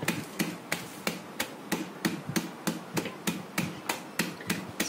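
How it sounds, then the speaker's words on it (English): A rolling pin pounds hazelnuts inside a bag, a steady series of about fifteen sharp, evenly spaced thuds, close and alone with no talk. "So just pound them like this with a rolling pin."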